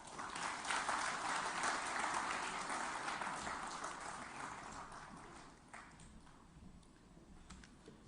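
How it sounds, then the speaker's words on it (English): Attendees at the PLASTINDIA2023 event in Hyderabad clap as the Telangana minister is welcomed to the podium, with a steady wash of hall applause that slowly fades, heard faintly and at a distance. "we welcome you to the podium with a vibrant sound of claps"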